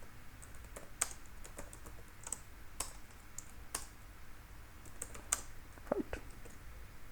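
Code being typed on a computer keyboard: fairly quiet, irregular bursts of sharp key clicks with short pauses between runs of keystrokes.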